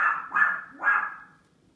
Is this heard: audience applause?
no